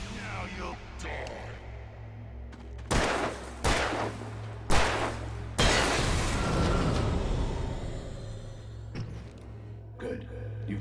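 Gunfire from a handgun in the video game Alan Wake Remastered: four sharp, loud shots spaced about a second apart over a steady low hum, the last one trailing into a long decaying reverberant tail, with faint sounds after.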